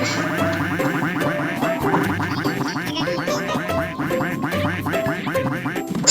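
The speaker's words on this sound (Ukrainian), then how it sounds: "Вони забирають качків." Many ducks quack rapidly and continuously in a Roblox game, a dense overlapping chorus of cartoonish quacks, loud and close, with no talking.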